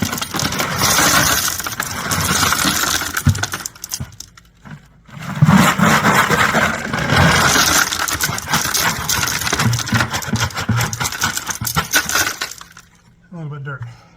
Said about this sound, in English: I'm going to finish filling this bucket with rock.